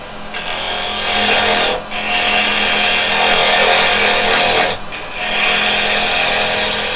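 A carbide chisel cuts very dry wood spinning on a woodturning lathe, a loud, steady, hissing scrape with two brief breaks where the tool lifts off, heard up close.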